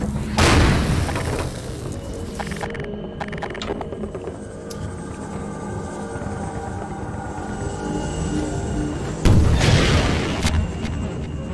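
Rocket explosions striking a Strider in Half-Life 2, two heavy booming blasts several seconds apart over continuous rumbling combat noise and a lingering roar.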